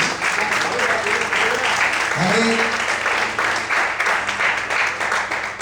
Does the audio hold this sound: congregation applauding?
yes